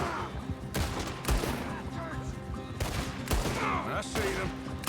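Gunfire in the video game Red Dead Redemption 2 during a story-mode shootout, dense bursts of rapid shots and loud cracks close by, with game voices talking over the battle.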